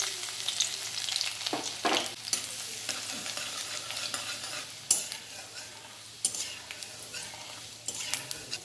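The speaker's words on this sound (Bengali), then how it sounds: "রসুনটা ভালো করে ভেজে নিয়েছি" Torn chillies and garlic cloves fry in hot oil with a steady sizzle, while a spatula stirs and scrapes the pan in irregular bursts, close and clear with no talking.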